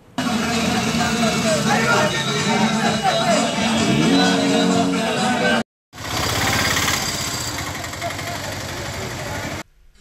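Motor vehicle engines drone and rumble continuously at an election bike rally in a village market square, loud and close with crowd voices mixed in, briefly cut off near the middle before resuming.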